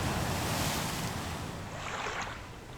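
Strong wind roars over the sea cliffs at Bonavista, Newfoundland, with surf crashing below, a loud, continuous rush of wind noise and waves with no voices.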